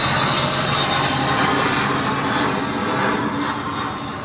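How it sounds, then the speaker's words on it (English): Jet airliner flying low overhead along a flight path, a loud, broad engine roar that fills the whole clip and eases slightly toward the end, with no talking. "And of course, here comes the plane."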